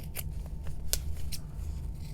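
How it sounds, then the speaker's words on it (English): Sharp scissors snipping through several stacked layers of fabric scrap in a quiet room, a series of crisp separate cuts at an uneven pace, close and moderately loud with no talking. "Take some nice sharp scissors and cut this out. I'm getting through all the layers here all at once."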